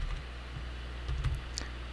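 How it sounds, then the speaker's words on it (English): Typing on a computer keyboard, a few soft, close key clicks in small bursts over a low steady hum. "let me type it"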